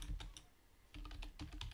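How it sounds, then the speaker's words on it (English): Typing on a computer keyboard: rapid, close key clicks in two quick bursts separated by a short pause, with no talking over them. "you have to go ahead and type these on your notepad"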